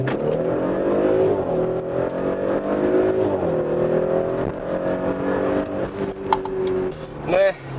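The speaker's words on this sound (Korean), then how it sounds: "이렇게 시속 100km 가속 시간과 거리 측정을 해봤습니다" A 354-horsepower, 2000 kg Audi SQ5 TFSI SUV accelerates hard from a standstill toward 100 km/h, its engine note rising steadily through the gears with brief dips at each shift, heard from inside the cabin.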